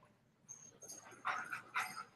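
Dogs whimpering softly during a training session, a few faint whines and yips that grow slightly louder toward the end, with no voices.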